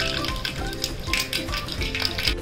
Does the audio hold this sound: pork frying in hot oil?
yes